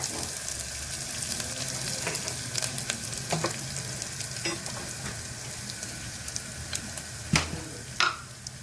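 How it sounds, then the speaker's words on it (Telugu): Ginger garlic paste frying in a pan for a mutton leg paya soup, a close, steady sizzle broken by stirring scrapes and sharp spatula taps, with no one speaking. "అల్లం వెల్లుల్లి పేస్ట్ కూడా ఫ్రై అయిన తర్వాత"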